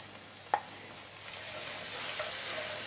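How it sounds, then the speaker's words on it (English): Peppers are stirred in a pan still coated with browned bits from cooking. A single metallic clink of the utensil comes early, then a soft sizzle builds and holds steadily, with no talking. "And we just want to cook these peppers until they're nice and soft and pliable."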